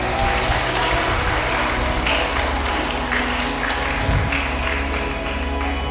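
Steady, loud applause from the audience at a school tahfidz (Quran memorisation) graduation ceremony at SMP Ahmad Dahlan, a junior high school in Jambi, fills the whole stretch, mixed with a constant tonal background.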